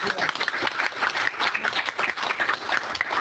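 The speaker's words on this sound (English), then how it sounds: "So let's give another round of applause" Conference audience applauding after a presentation in a session on skills gaps, a dense, even wash of many hands clapping heard from across a hall, steady for the whole stretch without talk.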